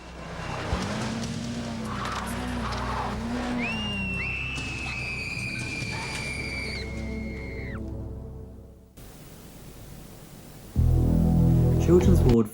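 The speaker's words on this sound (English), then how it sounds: "And it also featured the odd terrifying car crash." A terrifying car crash in a CITV children's TV drama: tyres squeal in long sustained skids over a steady engine roar, then after a brief lull a loud, rough burst of impact noise closes the scene.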